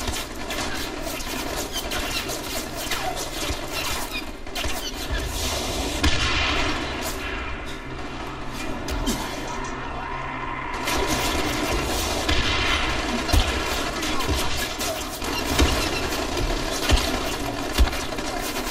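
Dense bursts of gunfire in the video game Dying Light crackle over a constant rumble of engine-like noise, with sharper individual shots popping out near the end.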